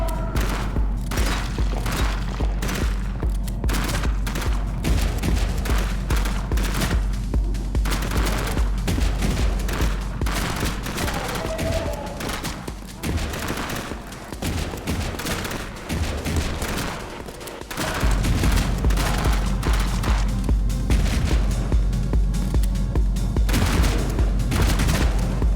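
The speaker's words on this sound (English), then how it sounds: "Oh shit, I have an automatic gun now." Automatic gun firing in a video game, dense sustained bursts of rapid shots with heavy thumps and booms layered throughout, loud and nearly continuous with one short dip midway.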